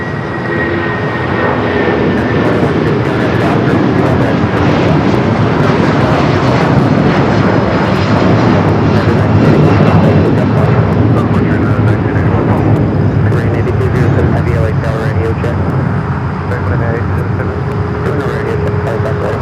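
A Boeing 757 airliner in older livery flies past at LAX, its jet engines giving a loud, sustained roar that holds steady for the whole stretch, with voices talking faintly underneath.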